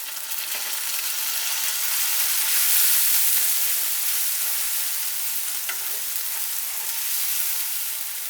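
Onion paste frying in a pan for a Bengali soya chunk curry, with a continuous close hiss and sizzle, a few faint scrapes of stirring and no talking.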